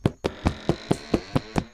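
Seven evenly spaced knocks on a hard surface in the video game Tyke and Sons Lumber Co., loud and close with a steady rhythm and no talking.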